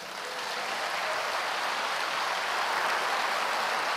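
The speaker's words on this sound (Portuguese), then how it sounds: "Vamos aplaudi-lo." A church congregation applauds, a dense steady wash of clapping that swells slightly and holds throughout, with no voices on top.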